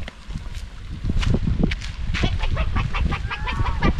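Geese at a lake in Bali honk and cackle loudly and close by in overlapping calls, with hissing bursts mixed in and a busy outdoor din behind them.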